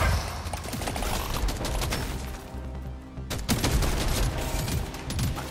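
Rapid, dense gunfire from the video game Deep Rock Galactic: Survivor while fighting in the Crystalline Caverns, with overlapping shots and bursts that run loud and continuous throughout, briefly thinning before surging again.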